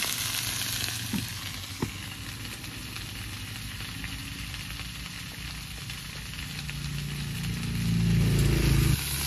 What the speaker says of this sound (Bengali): লবণ হলুদ দিয়ে ভালো করে ভেজে নেবে